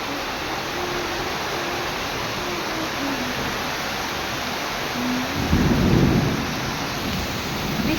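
Heavy afternoon rain pours steadily with a dense, even hiss, and a deep rumble of thunder swells about two-thirds of the way through.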